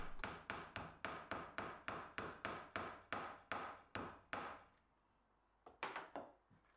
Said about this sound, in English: Then I can just take a hammer and tap them into place.